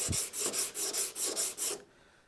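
Sandpaper is rubbed over body filler on a Chevy C10 Stepside in six or seven quick, even back-and-forth strokes. Each stroke is a soft, close rasp, and the sound stops abruptly.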